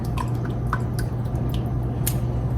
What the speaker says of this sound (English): I'm gonna go ahead and pour some of the juice that's in this bowl right now back into my pot